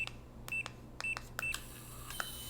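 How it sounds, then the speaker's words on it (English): Carmtek keyless RV lock keypad beeps, a few short, clear electronic tones spaced about half a second apart over a steady low hum, with fainter touch clicks between them. "this has a nice confirmation beep, and then the beeps when you touch them"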